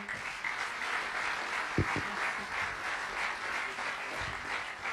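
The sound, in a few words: audience applause at award ceremony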